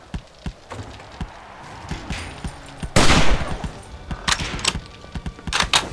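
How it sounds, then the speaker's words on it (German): Gunfire in 7 Days to Die: a string of sharp shots, some rapid bursts, with a loud dense burst at about three seconds and scattered single shots after, fairly near. "Er schießt nicht auf mich, ich schieße auf ihn."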